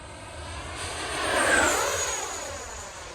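An FMS Dassault Rafale RC jet with an 80mm ducted fan and thrust tubes passes by at full throttle, its roar swelling to a loud peak and then falling away with a sweeping Doppler pitch change.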